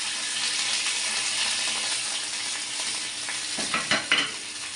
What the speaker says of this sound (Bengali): এবারে তেলটা আমি দিয়ে নিচ্ছি।